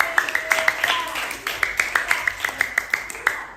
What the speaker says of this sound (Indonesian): Oke, berikan tepuk tangan kepada